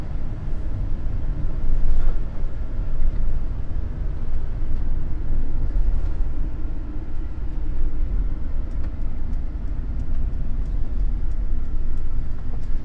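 A 2020 Tiffin Wayfarer 24 TW Class C diesel motorhome on the move, giving a steady low rumble of engine and road noise from inside the cabin with no voices.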